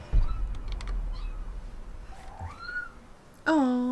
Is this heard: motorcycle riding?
no